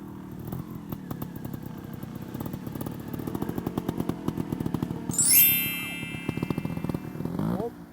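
A small trial motorcycle engine putters in rapid low pulses, revving briefly with a high whine before settling and cutting off.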